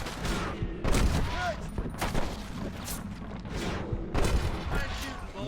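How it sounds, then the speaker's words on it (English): Gunfire rings out in Red Dead Redemption 2, dense overlapping shots and volleys crackling across a chaotic firefight, with louder bursts near the start and end and voices talking over the shooting. "Fine shooting, boys"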